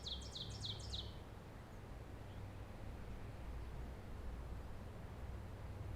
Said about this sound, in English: A bird that looks like a thrush, but is actually a warbler, is the Ovenbird. They sing a very loud song that sounds like teacher,